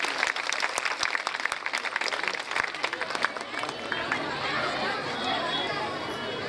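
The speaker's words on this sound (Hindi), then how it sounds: "ताली मुख्य अतिथि जी के लिए।" An indoor audience at a gathering claps for the chief guest, a dense burst of applause mixed with crowd chatter that fades into a softer hum of voices.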